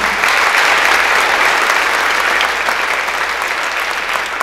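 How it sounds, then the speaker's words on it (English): An audience applauds a state wrestling champion at a high school academic and athletic awards night, a dense, loud, sustained wash of clapping that holds steady throughout. "Let's give him a round of applause"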